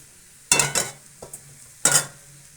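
Cooked pasta being stirred and mixed in a pan: a few sharp, close scraping strokes of a utensil against the pan, separated by brief pauses, with a faint sizzle underneath.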